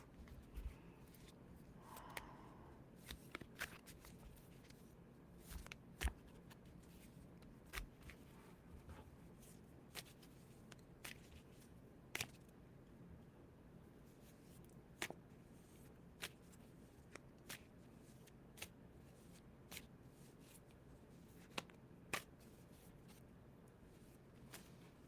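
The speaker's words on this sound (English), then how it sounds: "So let me pull the cards." Quiet, irregular taps and soft card snaps come from a deck being shuffled and cards drawn for a reading, faint and close over a hushed background with no talking.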